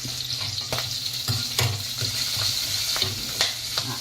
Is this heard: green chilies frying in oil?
yes